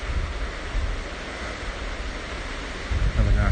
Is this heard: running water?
yes